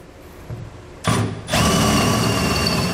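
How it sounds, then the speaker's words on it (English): After a quiet moment, a power drill with a half-inch bit kicks on briefly, pauses, then runs steadily and loudly, boring into a steel trailer hitch. "We're going to use a half inch drill bit to drill these out."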